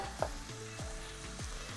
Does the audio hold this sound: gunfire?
no